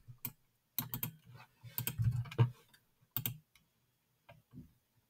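Fingers typing a number on a computer keyboard, with quick clusters of light clicking keystrokes broken by short pauses, close and fairly quiet.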